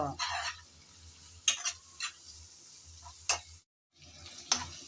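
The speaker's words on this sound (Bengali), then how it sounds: "টমেটো দুটা দিয়ে আমি নেড়ে চেড়ে আবারও কিছুক্ষণ কষিয়ে নেব" Chopped tomatoes being stirred and fried in a pan for a dried loitta fish bhuna, a soft sizzle under intermittent scraping strokes of a spatula, with a brief pause before stirring resumes.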